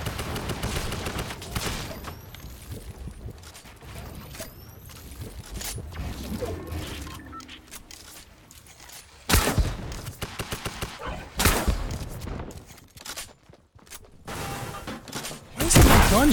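Tactical assault rifle gunfire in the video game Fortnite: bursts of rapid shots ring out in clusters between quieter stretches of game sound, loudest in the second half.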